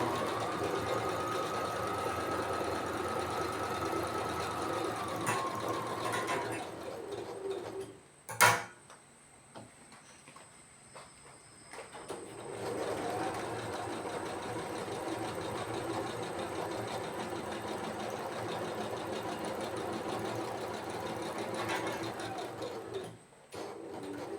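A sewing machine runs in long steady stretches while stitching the shoulder seams of a nightie, stopping briefly in the middle with a sharp click before resuming its continuous whirring hum.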